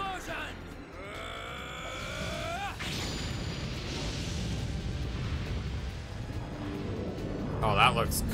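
Explosion magic cast in the PS5 release of The Legend of Dragoon, a long rumbling blast with crackling spread across several seconds, while someone talks over it.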